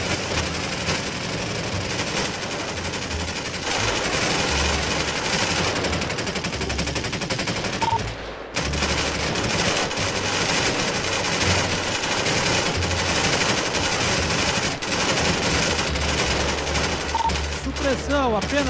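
Sustained automatic gunfire in GTA 5 roleplay during army recruit training, dense rapid bursts firing almost continuously and loud, with one brief pause midway.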